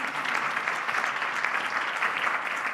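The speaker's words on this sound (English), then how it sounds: "a round of applause for them, please" An audience at Villanova University's 2025 Three Minute Thesis competition gives council members a round of applause, an even, sustained wash of many hands clapping in a hall.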